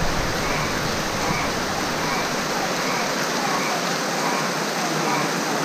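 Heavy rain pours down at night, a loud and unbroken roar of water close by, thick and constant like a downpour hammering everything around.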